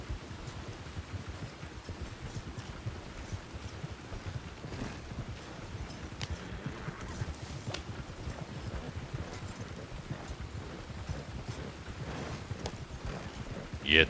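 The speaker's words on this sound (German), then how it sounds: "Das Pferd ranpfeifen." Horse hooves clip-clopping steadily in Red Dead Redemption 2 online, a rhythmic patter of moderate loudness running under intermittent talking.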